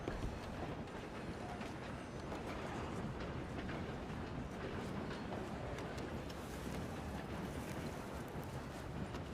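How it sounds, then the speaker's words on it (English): A moving train in Red Dead Redemption 2 gives a continuous rumbling, rattling roar with wind noise, steady and fairly loud throughout. "Come on, we need to stop this train."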